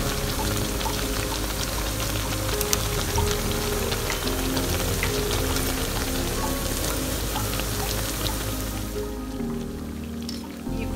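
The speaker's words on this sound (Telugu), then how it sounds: "ఫ్రై అయిపోయింది తీసేద్దాం" Black-eyed bean vadas, made from a ground cowpea batter, deep frying in hot oil, giving a loud, steady crackling sizzle that runs unbroken throughout and eases off slightly near the end, with no voices.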